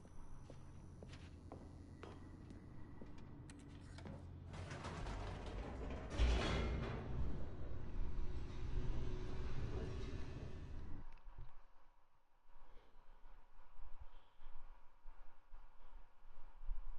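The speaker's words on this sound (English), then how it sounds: "The elevator raced downward, plummeting towards an unknown fate" Elevator in The Stanley Parable: mechanical rumbling and creaking gear-like clatter, building to a dense grinding surge before cutting off into a near-silent hum with faint sporadic knocks.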